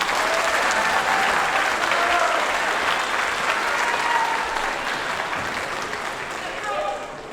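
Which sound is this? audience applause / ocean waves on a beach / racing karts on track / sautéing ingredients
audience applause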